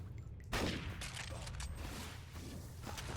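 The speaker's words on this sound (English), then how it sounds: "I guess I'm gonna use my rifle and try to hit him." Rifle fire in the first-person shooter NecroVisioN during a boss fight, a burst of muffled shots and impacts starting abruptly and continuing under a busy background of game effects.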